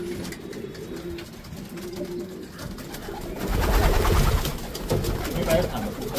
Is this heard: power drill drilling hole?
no